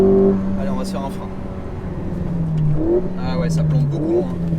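Alpine A110S sports car engine heard from inside while cornering, a steady engine drone with shifting pitch and brief surges, with someone talking over it.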